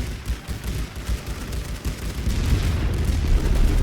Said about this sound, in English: The mortars are doing some work here